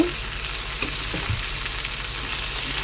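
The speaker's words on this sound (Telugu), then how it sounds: "బీన్స్ అనేది ఊరకనే మగ్గిద్ది ఆయిల్లో" Raw green beans frying in oil in a pan, giving a steady, dense sizzle that stays even throughout, close and with no voices.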